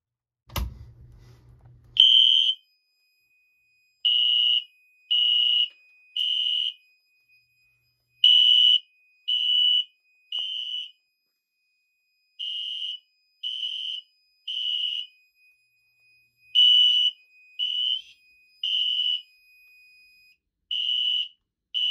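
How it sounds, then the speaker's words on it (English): A loud electronic fire alarm sounds in repeated high-pitched beeping bursts with short uneven gaps, after a brief thump at the start, triggered by testing a smoke detector on a fire alarm system. "I'm gonna go ahead and test the smoke detector too while we're at it."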